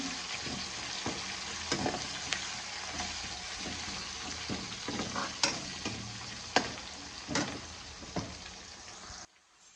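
Onions fry in a pan with turmeric and are stirred often. A steady sizzle runs under repeated sharp scrapes and clinks from the spoon, and the sound cuts off at the end.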